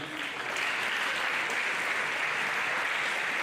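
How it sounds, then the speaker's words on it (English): Steady audience applause fills a hall at an agricultural and food security event, dense and continuous throughout with no voices over it. "We should not grow tired of clapping"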